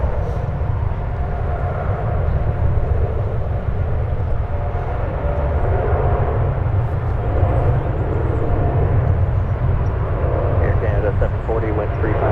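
Canada 240 airliner taking off from San Francisco International Airport, a loud, steady broadband jet roar holding evenly throughout, with no clear rise or fade.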